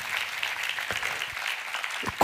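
An audience claps through an Italian book presentation on the fall of Rome, a dense steady patter of applause in a hall, close and even, ending in a sharper burst.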